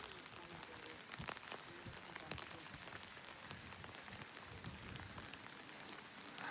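Steady rain falling on a crowded, cold street in Verona, a dense hiss of drops with occasional sharper splashes close by, continuous throughout.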